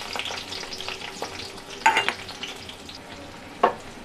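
Onions and cumin seeds frying in hot oil in a pan, a soft steady sizzle with occasional sharper crackles and spatters, close and moderately quiet with no talking.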